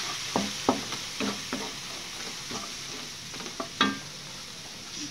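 Fried rice with cabbage and liquid seasoning is stirred in a pan. A spatula makes several scraping, clacking strokes over a soft, steady sizzle, with no talking.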